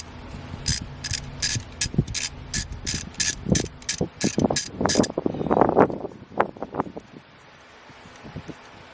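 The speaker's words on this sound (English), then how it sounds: "I'm using a ratchet and a deep socket" A ratchet with a deep socket backing out 13 mm alternator bolts on a 2007 Saturn Ion 2.2L, with rapid evenly spaced clicking bursts followed by looser rattles and clunks as the bolt frees, close and fairly quiet.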